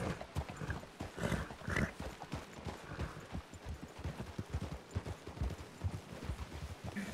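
Horse hooves clip-clopping in a steady, busy rhythm throughout, fairly close and moderately loud, with no voices over them.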